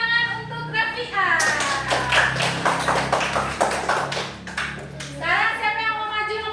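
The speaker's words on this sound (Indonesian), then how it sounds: "Beri tepuk tangan untuk Rafia" Children in a classroom clap for a classmate, with a burst of close, rapid hand claps lasting a few seconds and a voice speaking before and after.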